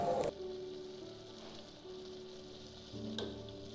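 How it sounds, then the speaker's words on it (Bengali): Mutton with chopped tomatoes frying and being stirred in a pan, a steady moderate sizzle with a brief clatter at the start and another scrape near the end, no talking. "তারপর আবারও আমরা খুব ভালো করে নাড়াচাড়া করে মাংসগুলোকে কষাবো"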